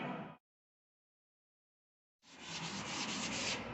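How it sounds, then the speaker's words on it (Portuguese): Sandpaper dry-sanding automotive primer on a car body panel, a close, steady rasping rub that stops briefly, leaves near silence for about two seconds, then resumes with even back-and-forth scratching. "Ó, lixamento a seco, tá vendo como é que é?"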